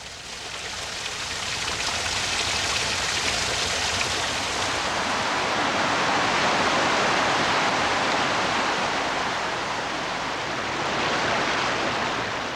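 Countless small mountain rivulets seep from limestone at the headwaters of the Kentucky River, making a steady, broad rush of trickling water that holds even and close throughout with no voices.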